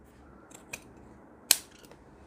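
Scissors snipping fabric while cutting out a kurti collar: two sharp, separate metallic snips, the second louder, against a quiet background.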